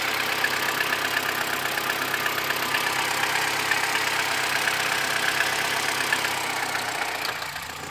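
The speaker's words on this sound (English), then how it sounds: "This is the engine running." Opel Combo camper van engine idling steadily for several seconds, a close, even mechanical hum and clatter with no talk over it.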